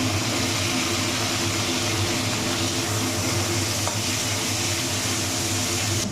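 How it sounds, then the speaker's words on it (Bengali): Potatoes dropped into a fried spice mix and frying, a steady close sizzle with faint stirring and a low background hum. "আমি এর মধ্যে দিয়ে দেবো আলুগুলো"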